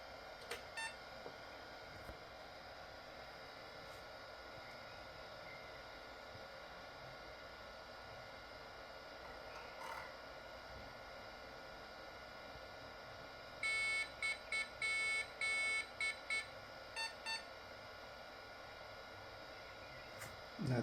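A Philips P2230 286 PC running at 12 MHz reboots. Its steady fan whirs and hums throughout, and near the end a quick series of short electronic beeps sounds close by.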